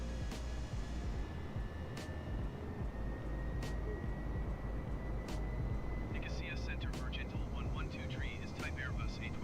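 Steady airliner engine drone climbs after takeoff in a flight simulator, a constant low roar throughout with a faint voice talking over it.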